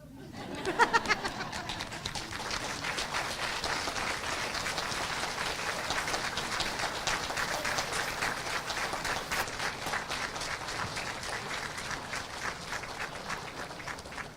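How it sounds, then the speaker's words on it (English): A standing crowd at a graduation ceremony claps together in a dense, steady patter that swells after a quiet start and holds throughout, fairly soft and somewhat distant. "I'm going to ask every one of you today to stand up and clap your hands for them"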